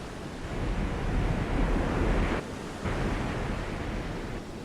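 Ocean waves surging around a submarine at periscope depth in the naval game Silent Hunter 3, a continuous loud rushing wash with a brief dip before resuming.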